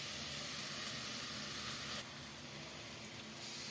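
Vegetables sizzle in a covered pan while being stir-cooked with salt and spices, a soft, steady, faint hiss with no break in rhythm and no voices.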